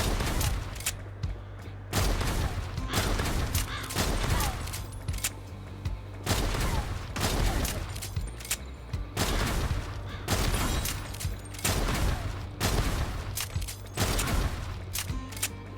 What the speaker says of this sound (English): it's kind of like the shotgun in a sense, where it's like, okay, you kind of get a little bit of a burst off of it